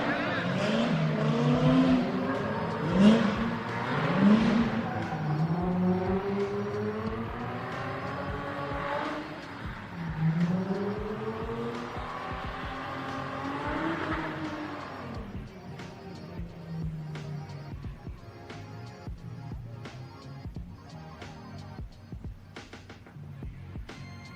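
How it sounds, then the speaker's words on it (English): Race car warming its tires before a final competition run, engine and tire noise running steadily under loud commentary talk before fading to a quieter, busier background. "Back to warming up the tires before their last run."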